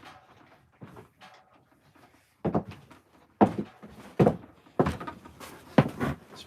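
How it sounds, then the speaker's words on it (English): Kitchen door, likely a fridge door, opened in a hot room: several sharp knocks and clunks, loud and close, with quiet handling noise between them and no talking. "I got to open the door."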